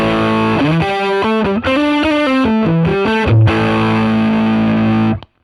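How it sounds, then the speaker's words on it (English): A distorted electric guitar tone from a Mesa Boogie Lone Star with no cab sim, played through a Line 6 Catalyst, rings out in sustained chords and short riff changes, loud and close, ending in a held chord that cuts off. "So here I've got kind of a Mesa Boogie Lone Star with no cab sim going into"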